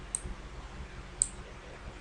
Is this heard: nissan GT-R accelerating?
no